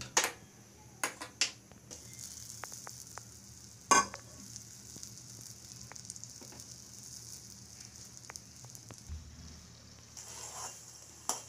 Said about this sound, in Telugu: దీన్ని ఒక గిన్నెలో వేసుకొని కాంచుకుందాము.